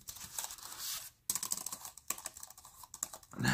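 Fingers type on a thin Sonkir wireless keyboard, a quiet run of irregular key clicks with one short pause, close and alone without speech.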